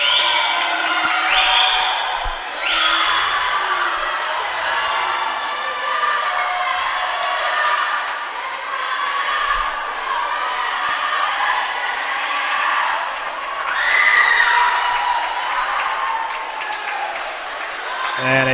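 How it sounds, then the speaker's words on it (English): Crowd cheering and shouting at a girls' varsity swimming dual meet at the Darien YMCA, echoing through the indoor pool hall in sustained waves, with an announcer talking over the noise. "And a great crowd here at the Darien YMCA"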